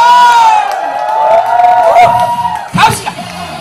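Concert crowd at an outdoor beach show cheering, whooping and shouting with loud sustained voices, rising again in a burst near the end.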